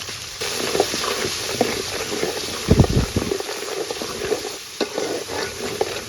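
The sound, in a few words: spice paste frying in a pan for taro curry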